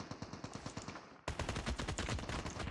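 Rapid automatic gunfire in Call of Duty Mobile, with bots being shot: a steady stream of evenly spaced shots, quieter at first, then a closer, louder burst continuing without pause.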